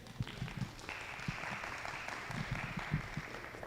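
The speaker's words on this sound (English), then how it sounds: "Thank you for your kind applause." Applause from a workshop audience, a moderate, even patter of many hands clapping that continues steadily from start to finish, with a few louder individual claps.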